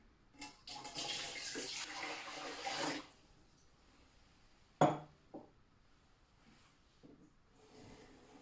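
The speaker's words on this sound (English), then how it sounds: "So the first thing we're going to do is pour the water into the pot or container." Water pours into a pot for bread dough in a steady splashing stream for about two seconds, then stops; a sharp knock and a few faint handling sounds follow in a quiet kitchen.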